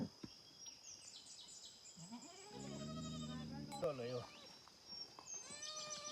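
Goats bleat nearby, a few wavering, nasal cries rising and falling over a quiet background.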